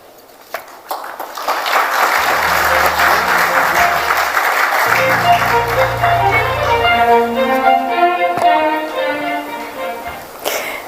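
Warm applause at the Ramnath Goenka Awards for Excellence in Journalism ceremony, clapping rising after a brief quiet start and sustained loudly, with a tonal musical cue sounding over it in the middle.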